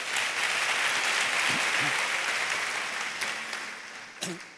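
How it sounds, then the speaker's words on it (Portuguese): A church congregation applauds during a sermon, a dense steady wash of clapping that slowly thins toward the end, with a voice briefly heard over it. "Quero uma salva de palmas."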